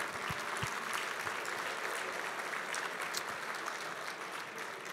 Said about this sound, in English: how about a nice round of applause for the whole team here at the beautiful Marriott Desert Springs